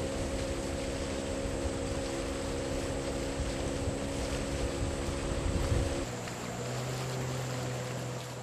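The engine of a longtail boat on a river in the Sarawak jungle of Malaysia drones steadily with a humming tone, mixed with wind rushing across the microphone. The engine pitch drops and changes near the end.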